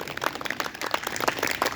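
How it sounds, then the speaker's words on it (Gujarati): Participants in a yoga aerobics class give a brief burst of clapping, a quick, uneven patter of many hands lasting under two seconds. "જોરદાર તાળીઓથી વધાવશું"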